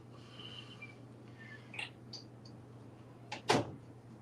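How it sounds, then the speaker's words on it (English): A nearby door shuts once with a short, sharp bang near the end, after a few faint creaks and clicks, over a steady low hum. "Whose door is that?"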